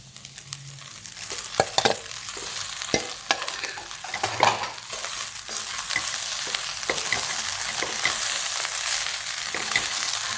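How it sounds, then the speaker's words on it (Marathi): Cooked rice stirred into fried vegetables, carrots and peas with coriander in a pan for veg pulao makes a steady sizzle with repeated scraping and tapping of a spoon against the pan, with no voices. "आपण थोडीशी कोथिंबीर टाकून घेऊया आणि जो भात आहे ना केलेला आपण तो मिक्स करून घेऊया."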